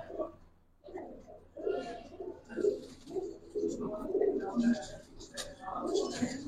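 Giribaz pigeons coo in soft, repeated throaty calls at close range, with someone talking quietly in between and over them.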